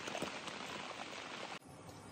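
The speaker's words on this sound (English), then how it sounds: "So we're gonna be laying in the tent for a little bit till the rain stops." Light leftover rain patters steadily on a tent at a campground in Staunton, Virginia, a soft even hiss of drops that cuts off abruptly near the end.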